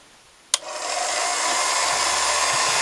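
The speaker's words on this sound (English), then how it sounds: "we're going to turn the motor on." A movie projector's motor switches on with a sharp click, then settles into a steady, fairly loud whirring hum that continues alone without talk.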